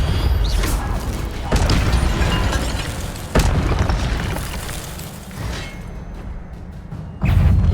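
An Incendio fire spell cast in Hogwarts Legacy sets off a string of sharp bursts and booming whooshes, several loud hits spread across the stretch, each followed by a rushing, crackling tail.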